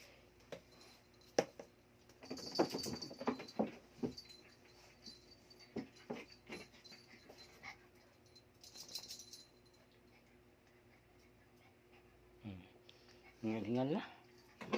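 A dog panting after play, quick breathy bursts close by with jingling tags or keys and a few whimpers, alongside scattered human voices.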